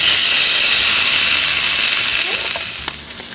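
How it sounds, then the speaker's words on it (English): A tilapia fillet sizzles on a grill, a loud, bright, continuous hiss of frying that eases off toward the end, broken by a small clatter, with no one speaking. "I'll put my tilapia fillet into it and we'll cook from the both sides"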